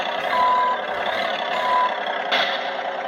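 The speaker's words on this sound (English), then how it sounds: "And then occasionally you'll hear like an air brake." A 1989 Nylint Sound Machine toy semi truck plays its electronic air brake effect, a steady hissing release with a slight swell and a sharper burst near the end, loud and close with no talking.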